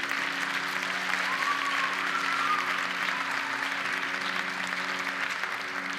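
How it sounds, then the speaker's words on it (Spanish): An audience applauds steadily at the XXIV Gala del Deporte de Mijas 2022, a continuous, even wash of clapping heard from a moderate distance, with a faint low hum underneath. "Un fuerte aplauso para todos ellos."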